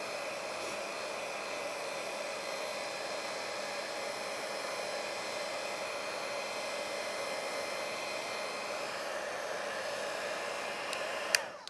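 A hair dryer blows steadily on a paper craft butterfly, a constant loud whooshing hum that holds unchanged for several seconds and then cuts off abruptly at the end.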